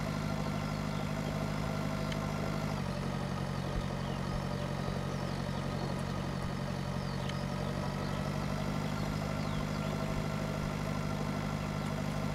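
Tractor engine in the farming game Pure Farming 2018 drones at a steady, low, even pitch throughout, a continuous mechanical hum with a slight shift early on and no voices.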